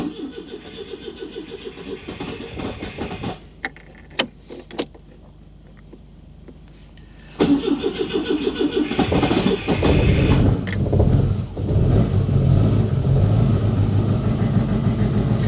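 BMW GS Adventure motorcycle engine with no fuel primer, cranking with clicks, then catching and running rough and uneven on only some of its cylinders, loud and close with a lumpy, irregular beat.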